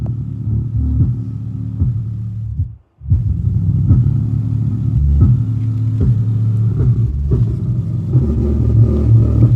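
Subwoofer powered by a separate sub amplifier wired to the sub output of an Altec iPod dock, pumping loud, deep rumbling bass in a steady rhythmic pattern with one brief dropout, no voices.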